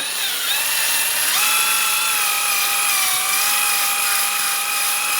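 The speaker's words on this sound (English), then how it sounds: "Using a wire brush, we're going to go around and hit any spot where the pad is going to contact this backing plate" A wire brush scrubs the brake backing plate of a 2007-2011 Toyota Camry rear drum brake, a steady loud rasping scrape running continuously throughout with no talk.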